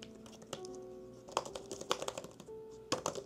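Quick bursts of keystrokes on a computer keyboard, clicks arriving in short uneven clusters with brief pauses between, close and fairly quiet against a faint background hum.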